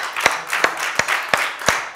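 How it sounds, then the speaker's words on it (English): Congregation hand clapping at a Wednesday church service, a steady rhythmic beat of sharp claps about three per second, close and fairly loud over a room wash. "Give the Lord a hand clap."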